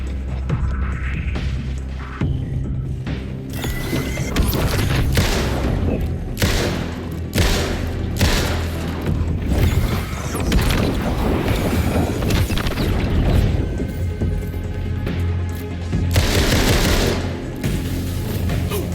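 Heavy gunfire in the video game Alan Wake 2: Night Springs crackles in repeated loud bursts and booms over a low throbbing drone, with thuds between volleys.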